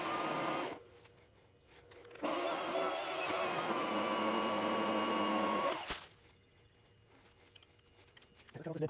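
An Ego PS1001 56V battery pole saw cuts through firewood-sized branches: a loud electric motor whine with chain buzz rises and holds for several seconds, drops, then returns in a long sustained cut before easing off to quieter idle noise.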